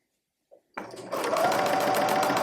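A sewing machine starts up and stitches fabric for a grocery bag holder, a close, steady rapid mechanical whirr after a brief click, running alone.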